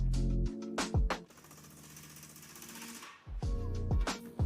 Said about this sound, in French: Appuie sur le bouton du coffre et tu l'entendras.